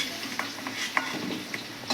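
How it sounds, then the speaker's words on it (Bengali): Vegetables frying in a pan over low gas heat for khichuri, a steady close sizzle broken by light stirring scrapes and a few soft utensil taps. "এবার এটা লাল করে ভেজে নেবে, তো গ্যাসটা কমিয়েই ভাজবেন, নাহলে পোড়া লেগে যাবে।"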